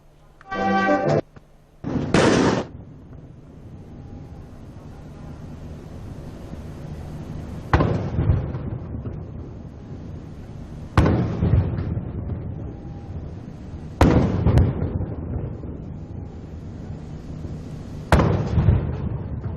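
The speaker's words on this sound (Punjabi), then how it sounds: "ਇਸ ਮੌਕੇ ਉਹਨਾਂ ਨੂੰ 21 ਤੋਪਾਂ ਦੀ ਸਲਾਮੀ ਵੀ ਦਿੱਤੀ ਗਈ" Ceremonial 21-gun cannon salute during an official welcome for a prime minister in the Maldives, heard as a series of loud, distant booms spaced several seconds apart with outdoor wind rumble between.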